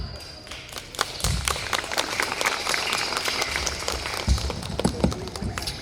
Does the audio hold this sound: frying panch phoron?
no